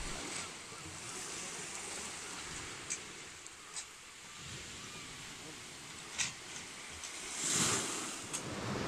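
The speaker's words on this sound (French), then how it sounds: "On est sur la plage." Waves wash steadily onto a beach in a broad, continuous surf hiss with gusty wind buffeting the microphone and a few brief louder splashes toward the end.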